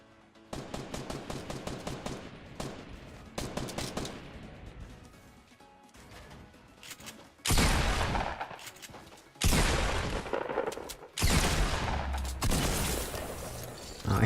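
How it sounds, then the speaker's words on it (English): Rapid gunfire from a Fortnite Battle Royale match, sniper bullets among the shots, crackles in repeated bursts of sharp reports, some trains fast and dense, others heavier and louder with silent gaps between volleys. "I keep hearing sniper bullets coming from that direction"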